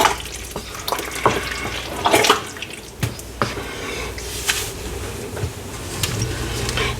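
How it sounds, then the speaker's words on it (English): A spoon stirs a bowl of raspberries in a home kitchen, giving scattered wet clicks, squelches and scrapes in an irregular rhythm, fairly close and with no speech. "I'll bring in both bowls and get this stirred up before I add some more"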